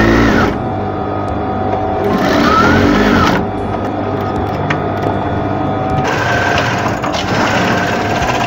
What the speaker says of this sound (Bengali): এভাবে ভাঁজ করে সেলাই করে দেবেন।